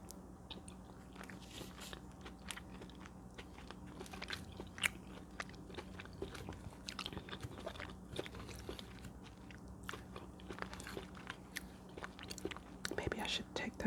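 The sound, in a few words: eating chicken pot pie, biting and chewing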